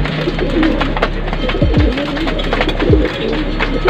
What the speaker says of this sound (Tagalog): papakain natin mga kalapati.